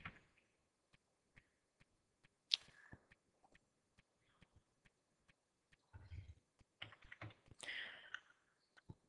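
Someone types on a computer keyboard, with sparse, irregular single key clicks that later build into quicker bursts of keystrokes, close and quiet.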